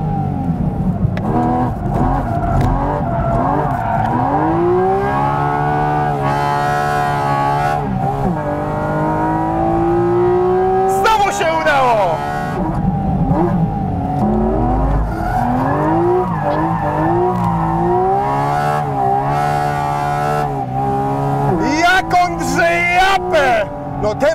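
A car drifting on warmed tires, its tires squealing in long wavering howls over a revving engine, loud and close, with voices talking throughout.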